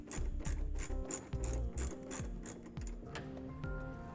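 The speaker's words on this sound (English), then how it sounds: "take our included Allen key and then our ratchet, and we'll have someone hold it from the top while we tighten this portion down" Ratchet with an Allen key driving a bolt on a Rhino-Rack heavy duty roof rack on a 2015 Jeep Wrangler, close and loud, with a steady run of repeated clicking strokes and no voices.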